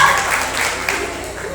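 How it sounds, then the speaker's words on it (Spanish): Applause for a school coordinator at an intercollegiate reading contest in Ecuador, a short burst of hand clapping from an audience, fairly loud, with a voice speaking over it. "Un aplauso por favor para nuestro coordinador, claro que sí."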